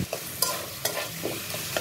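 Potatoes and potato greens being stirred in a pan with green chillies, a close scraping stir recurring every half second or so over a soft steady sizzle, with no voices.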